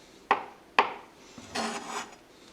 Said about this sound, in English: Now we'll chop the eggs.